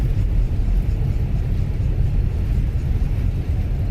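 Airbus A320 engines roaring in reverse thrust after landing in a flight simulator, a loud, steady low rumble of jet noise and runway vibration sustained throughout without letup.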